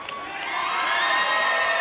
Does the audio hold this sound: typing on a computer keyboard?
no